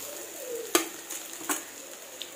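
Potato pieces drop into a half-cooked curry sizzling in a pan, with a soft thud, gentle frying hiss and light stirring clinks close by, no talk.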